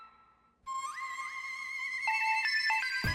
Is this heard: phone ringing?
yes